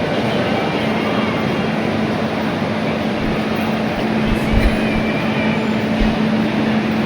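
Chennai Central railway station with a steady, loud hum of crowd and machinery, a sustained low drone running throughout, and brief low thumps near the middle.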